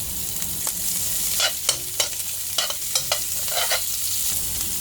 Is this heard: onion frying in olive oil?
yes